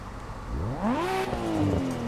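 A drift car engine with a loud turbo revs up at a practice run on a track, its pitch sweeping sharply upward and then holding a high, strained whine, loud and close with no talk.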